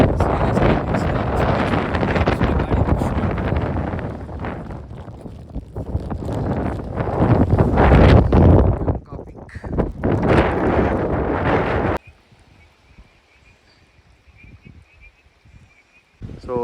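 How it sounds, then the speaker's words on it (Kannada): Strong monsoon wind buffeting a microphone on foggy Kudremukh peak in the Western Ghats, loud roaring gusts for most of the clip before dropping suddenly to quiet near the end. "ಎಷ್ಟು ಗಾಳಿ ಬೀಸ್ತಿದೆ ಅಂದರೆ ನಮ್ಮನ್ನ ತಳ್ತಿದೆ ಗುರು"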